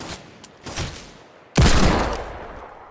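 A loud burst of weapon fire from the Thanos gun in Fortnite erupts after a few softer preceding shots, the final blast booming close and sustained before fading out, with no talk over it.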